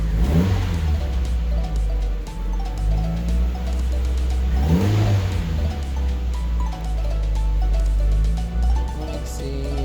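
A turbocharged Mazda Miata engine runs after its first start, idling with a deep low rumble broken by a few rising revs, close and loud throughout.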